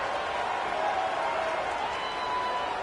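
A stadium crowd cheers in the video game College Football 26 during a Western Michigan game, a steady, dense roar that holds at even loudness without breaks.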